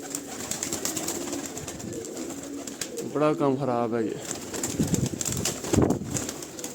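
Pigeons coo nearby in soft, throaty bursts, while someone speaks briefly over the birds.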